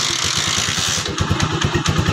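A motorcycle engine with a misfiring, low-pressure fault that will not start easily revs loudly and close up with a choppy, pulsing beat, then the throttle is released and it drops to an uneven, stumbling idle.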